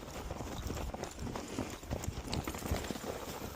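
A horse being ridden on a trail, hooves clip-clopping in a steady walking rhythm close by, fairly quiet under a faint outdoor background.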